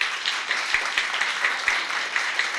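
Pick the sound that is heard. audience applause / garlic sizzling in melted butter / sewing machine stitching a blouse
audience applause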